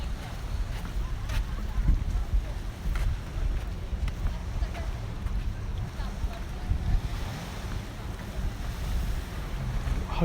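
Waves wash onto a beach beside a coastal walkway in Protaras, Cyprus, a steady rolling surf roar mixed with heavy wind buffeting the microphone throughout.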